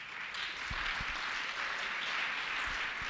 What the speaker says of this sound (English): Can you please clap hands for that?